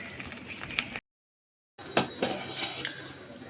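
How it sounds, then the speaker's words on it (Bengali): A metal lid is set on a cooking pot holding steamed rice-flour dough, giving close clinks and a scrape after a brief silence, with light utensil clatter before it. "ভালো করে এরকম মেলে দিয়ে একটা ঢাকনা দিয়ে দিচ্ছি।"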